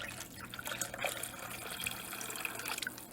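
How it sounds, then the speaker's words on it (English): Vegetable broth poured into a cooking pot gives a continuous splashing, gurgling stream of liquid, close up and moderately quiet, with small irregular drips and sloshes throughout. "So I'm going to take half of this and pour it in."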